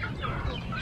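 Chickens and other fowl in a village coop at feeding time, soft clucking and low bird calls mixed with background bustle and faint voices.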